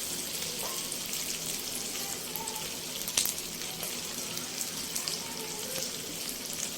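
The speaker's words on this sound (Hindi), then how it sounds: "तो अब मैं इसमें यखनी डालती हूँ।" Broth pours steadily into a pot of mutton pulao with a soft, continuous splashing hiss, close and moderately loud, with a brief clink partway through.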